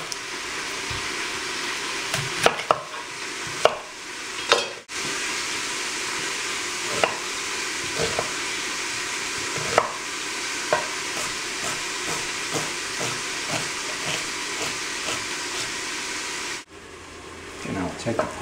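Meat for Olive Garden-style pasta fagioli sizzles steadily in a pan, a continuous close frying hiss broken by occasional clinks and knocks, with a person talking over it.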